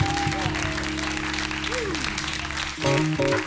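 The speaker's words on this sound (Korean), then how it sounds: "다 같이 하나님께 영광의 박수 올려드립시다." Korean church congregation clapping in praise during a worship service, a steady wash of applause under sustained music and organ-like tones, with a voice briefly over it.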